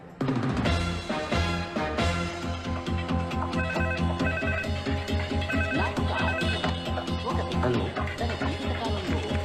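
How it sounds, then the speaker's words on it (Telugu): A telephone plays a loud, melodic ringtone that repeats continuously for about nine seconds, with rhythmic musical tones filling the scene. "ఎస్ నీకు ఫోన్"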